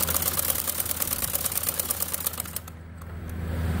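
A domestic sewing machine runs a double row of stitching along the edge of a baby frock, a fast, even mechanical chatter that holds steady and then softens and slows near the end.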